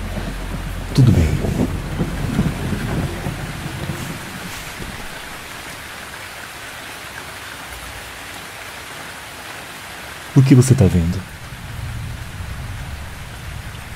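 Rain falling in The Sims 4 as a steady, even patter throughout, with brief bursts of speech rising over it near the start and again later.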